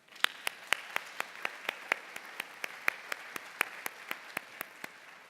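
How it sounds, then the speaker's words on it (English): Applause for graduates at a university graduation celebration, heard as a single clear, evenly paced series of about twenty sharp claps, close and isolated rather than a full crowd. "Let's give them another round of applause"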